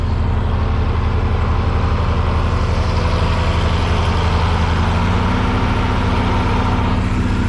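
Tractor engine running in a field during seedbed prep, a loud, steady low diesel drone with a constant throbbing rumble, close by and uninterrupted, with no voices.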